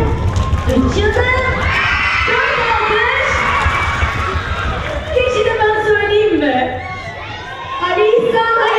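Children at a school eco-awards ceremony stomp their feet, clap their hands and scream together, a loud crowd roar over heavy thumping stomps, with shrieks rising and falling throughout.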